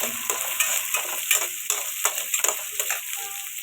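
Onions frying in a pan for vegetable upma, a steady close sizzle with repeated stirring scrapes and clinks of a spatula running through it, no talk.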